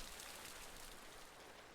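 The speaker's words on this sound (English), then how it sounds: "Oh, we got rain." Steady rain in the video game Kynseed, a soft, even hiss of falling drops with no talking over it.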